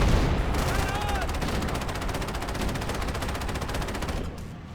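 Rapid, sustained turret gunfire from the Halo CE game plays at a steady rhythm for several seconds, loud and close, then cuts off near the end.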